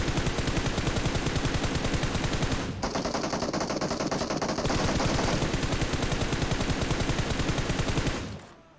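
Sustained automatic gunfire from PUBG Mobile on the Erangel map, a dense rapid stream of shots that briefly thins around a third of the way in, then resumes at full loudness before cutting off near the end.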